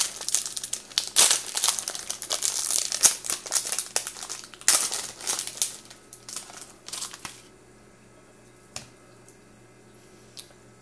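A 2012 Topps Tribute baseball card pack wrapper is torn and crinkled open up close, with loud bursts of crackling plastic for about seven seconds, then quiet with a few faint handling ticks.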